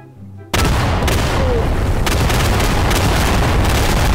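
A bomb blast in Garry's Mod sets off a sudden loud roaring burst that keeps rumbling and crackling at full level, with repeated sharp pops inside a dense, noisy wash.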